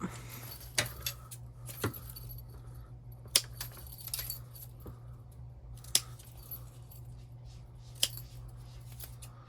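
Scissors trim fabric and threads on a sewing project after top stitching, giving sharp, sparse snips and clicks spaced a second or two apart over a quiet room hum.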